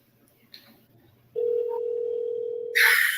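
A telephone dial tone sounds while a participant is being called back on speakerphone during a community meeting. It is a steady, loud, continuous tone lasting under two seconds, preceded by faint background murmur and followed by a burst of noise.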